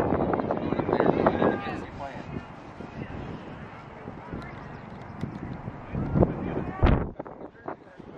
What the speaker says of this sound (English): it's very windy here today, so I hope this furry thing on my mic will block the wind